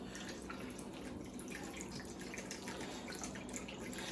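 Rum poured into a pitcher while making white sangria, a continuous close liquid splashing and trickling that runs steadily for about four seconds at low level, with no talking.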